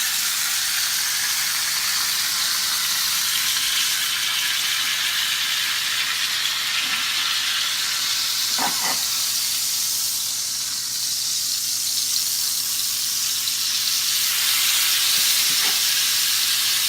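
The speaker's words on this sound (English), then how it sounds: "Make sure you sear all sides." A beef tenderloin sears in a hot pan with halved garlic, giving a loud, continuous close-up sizzle and hiss, with a couple of brief clinks partway through.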